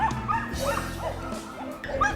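A rescued dog at a shelter whines and yips in short, close bursts, with small bow-wow sounds, over low background room noise.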